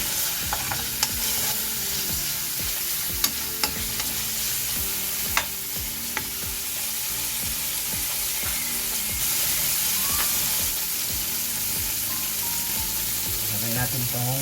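Oil crackles and sizzles steadily in a frying pan, with occasional sharp pops and the scrape of stirring over a continuous frying hiss; nothing is spoken.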